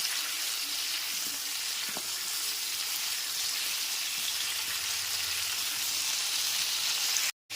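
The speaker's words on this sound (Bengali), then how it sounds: "গ্যাসের ফ্লেমটা মিডিয়ামে রেখে পটলগুলোকে দু থেকে তিন মিনিট ধরে ভেজে নেবো" Steady, even sizzling of pointed gourd frying in hot oil in a pan over a medium gas flame, continuous and close, with no talking.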